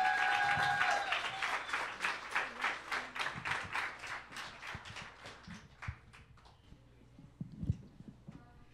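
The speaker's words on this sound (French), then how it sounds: "Une main d'applaudissement, s'il vous plaît." Audience applause greeting a speaker invited onstage at a talk on teen psychiatry and school, a dense burst of clapping that swells briefly then thins into scattered claps and fades over several seconds.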